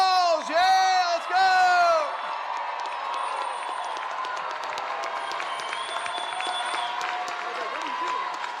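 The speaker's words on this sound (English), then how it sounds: "let's give all of our students another round of applause" A commencement ceremony crowd cheers and whoops loudly for graduating students at first, then settles into sustained applause with steady clapping that continues to the end.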